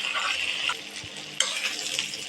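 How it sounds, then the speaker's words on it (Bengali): Dried fish frying in a pan with green chillies and onions, a soft, steady sizzle with stirring scrapes and one sharp utensil knock midway; fairly quiet, no talking. "এখন শুটকি দিয়ে দেব, শুটকিগুলো দিয়ে ভালো করে একটু ভাজবো।"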